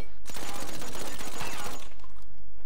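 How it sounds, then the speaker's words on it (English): Rapid automatic gunfire in GTA 5 crackles in a loud, dense burst lasting under two seconds, followed by a quieter tail. "see if you can shoot the gas can out of my hand with just a gun"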